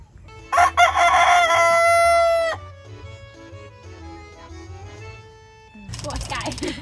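Chickens and a rooster outside the coop on a rural farm in Isan, Thailand: a loud, close rooster crow lasting about two seconds, then fainter clucking and background chatter, with a burst of noisy activity at the end.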